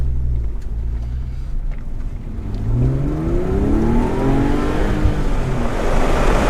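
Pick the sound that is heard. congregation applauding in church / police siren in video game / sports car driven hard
sports car driven hard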